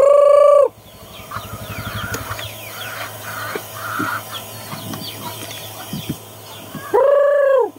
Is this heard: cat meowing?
no